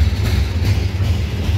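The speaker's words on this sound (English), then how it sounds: "Here we have a GE powered undercarload of coal" A loaded CSX coal train hauled by GE locomotives rolls past at a ridge summit, a loud, steady low rumble of wheels and cars filling the scene without pause.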